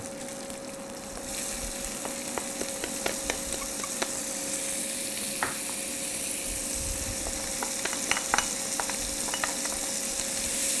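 Pancetta sizzles steadily in a pan with shallot and garlic, a constant bright hiss punctuated by scattered pops and occasional stirring clicks, close and without talk.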